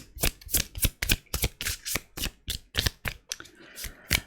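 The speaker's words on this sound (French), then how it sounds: "Je vais prendre une autre carte pour cette maison 2." Tarot cards being shuffled and drawn by hand: a rapid series of sharp, crisp riffling bursts in an uneven rhythm, close up and alone, with brief pauses between the flicks.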